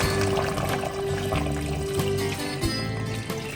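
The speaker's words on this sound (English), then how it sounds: "Now I'm going to put in my chicken stock." Chicken stock pours into a pan, a short close stream of liquid splashing and trickling over a low steady background hum.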